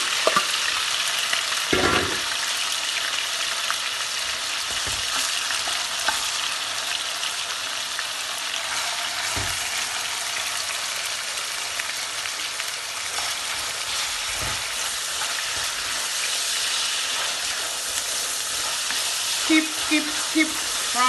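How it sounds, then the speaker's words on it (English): Steady, close sizzling of onion frying in a pan, a constant crackling hiss with occasional soft clinks and bubbling pops throughout. "Keep frying."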